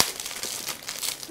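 Gift wrapping paper crumpled and torn open at close range, a steady crackling crinkle with short ripping bursts and no talk.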